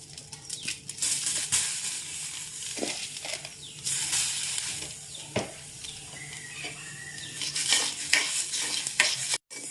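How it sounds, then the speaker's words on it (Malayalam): Washed rice grains rustle and scrape steadily in a pan as they are dry-roasted and stirred, with scattered scratchy strokes and faint crackling throughout, no voices. "നമുക്ക് 2 ട്രിപ്പായിട്ട് അരി വറുത്തെടുക്കാം"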